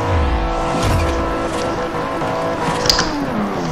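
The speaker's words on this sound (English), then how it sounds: "I love my drifting skills sometimes." A car drifts in Forza Horizon, its engine droning steadily while tires squeal in a long skid, loud and continuous with a brief sharp chirp near the end.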